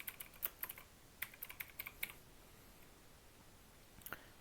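Quiet clicking of keys on a computer keyboard, a short burst of several keystrokes, a pause, then a few more taps, close and faint with no talking.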